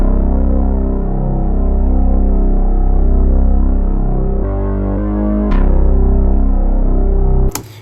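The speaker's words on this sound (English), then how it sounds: "So I did this bass pattern." A synthesized hip-hop bass pattern rumbles with deep, throbbing sustained tones, shifting pitch midway and ending with a sharp cut, played alone and loud.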